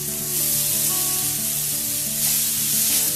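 Minced chicken with tomato sizzles in a pan over a medium flame while being stirred, a steady close frying hiss with soft scraping strokes and a low background hum, no talking.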